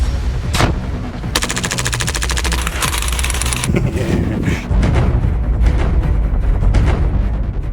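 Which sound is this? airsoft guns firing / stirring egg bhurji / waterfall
airsoft guns firing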